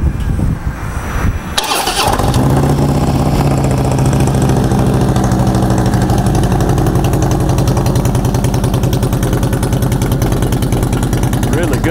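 A used Harley-Davidson Screamin' Eagle Ultra Classic motorcycle with 15,542 miles starts up close by, then settles into a loud, steady, throbbing idle that runs without a break.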